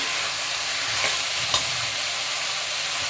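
Ingredients with added salt sautéing in a pan, giving an even, steady close sizzle with a light stir or scrape about midway.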